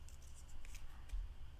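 Scissors snip a tiny eighth-inch strip of paper, giving a few faint, soft crisp cuts close by against a low background hum.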